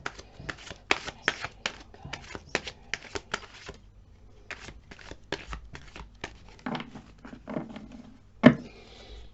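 Tarot cards being shuffled repeatedly in quick riffling bursts, close up, with a short pause midway and a sharper tap near the end.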